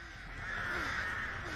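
Crow caws from the Artist's birds in the Dead by Daylight video game, set in a cornfield: a harsh, steady cawing that rises slightly in loudness and holds close for a moment.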